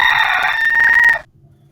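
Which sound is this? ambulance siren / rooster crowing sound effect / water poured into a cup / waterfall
rooster crowing sound effect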